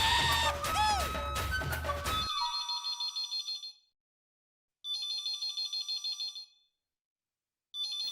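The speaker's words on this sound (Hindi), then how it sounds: "एक फोन बंद हुआ नहीं और दूसरा शुरू हो गया" A phone rings in a home with an electronic ringtone: a rapid warbling trill in repeated bursts of about two seconds separated by silences, loud and close, following a brief stretch of busy background sound.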